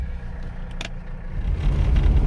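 A Mercedes 300CD rolls along a rough washboard road, its low engine and road rumble swelling louder toward the end, with a brief clunk partway through.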